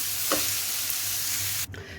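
Shredded cabbage sautéing in a pan gives a steady hiss and sizzle, with a soft scrape of stirring partway through, before the sizzle abruptly drops away near the end.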